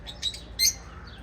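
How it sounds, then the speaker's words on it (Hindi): A parrot at a zoo lets out two short, sharp squawks, fairly faint over a quiet background. "ये तोते की नस्ल है"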